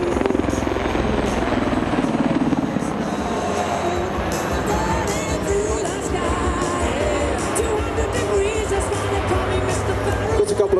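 Super Puma helicopter makes a high-speed flyby at an airshow, its loud rotor thump and turbine roar continuous, with an announcer talking and crowd noise underneath.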